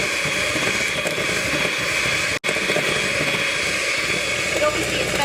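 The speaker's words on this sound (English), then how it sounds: "we're whisking as much air as possible into our mixture" Eggs are whisked into a cake mixture for a marble pear tray bake, a loud, steady whirring drone that runs continuously and cuts out for an instant midway.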